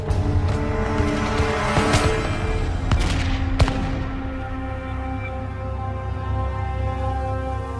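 Musket volleys crackle amid a battle scene of colonial militia firing on marching British Redcoats, several sharp loud reports over a dense rumbling bed of noise, with no voices.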